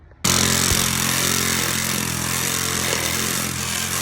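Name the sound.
saw cutting fencing pieces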